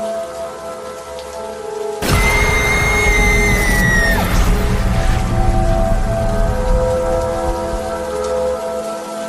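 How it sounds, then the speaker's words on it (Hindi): In an animated scene, heavy rain suddenly pours down in a dense, loud, steady roar, joined by a booming thunder rumble and a rising high tone early on, then continuing as a constant downpour to the end. "इतनी तेज बारिश और गरजते हुए बादलों के बीच रात गुजार पाना शॉन के लिए बहुत मुश्किल हो जाता"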